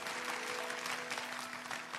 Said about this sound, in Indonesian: Yang percaya kasih tepuk tangan dalam nama Yesus.